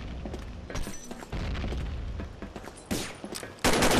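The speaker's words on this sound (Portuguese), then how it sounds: "Foi a bomba, Zé." Bomb blast and gunfire in a video game, with repeated sharp bursts and booms across the whole stretch, ending in a loud, dense detonation-like roar.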